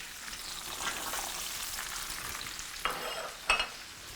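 Onion and carrots sizzle in a paella pan in a wood-fired pizza oven, with soft continuous frying hiss and a few sharp scrapes and clinks of a utensil stirring them.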